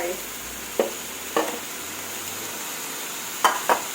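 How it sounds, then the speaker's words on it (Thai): Liver stirred into a simmering beef stew with cha plu leaves: a few short scraping clacks of a spoon against the pot over a low steady simmering hiss, close by. "ใส่ตับลงไป"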